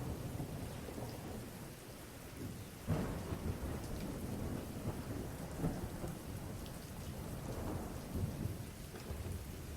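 Steady rain pours down with low thunder rumbling and swelling several times, a continuous, moderately loud storm with no voices.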